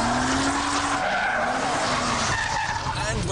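An Opel Omega Lotus skids on a racetrack with loud, sustained tyre squeal and engine roar, while someone talks over it.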